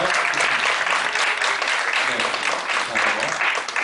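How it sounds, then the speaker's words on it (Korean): Steady, dense applause from a church young-adults group welcoming visitors during a Sunday service, filling the room evenly for the whole stretch before easing slightly at the end. "우리 좀 박수로 좀 환영하고 좀 격려해 주셨으면 좋겠습니다."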